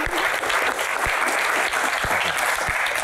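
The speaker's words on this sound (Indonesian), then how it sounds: "Tepuk tangan untuk Pak Tahir sekali lagi." A studio audience at a Q&A talk show breaks into dense, sustained applause for Pak Tahir, many hands clapping loudly and steadily throughout with no voices.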